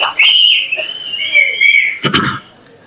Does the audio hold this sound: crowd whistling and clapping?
yes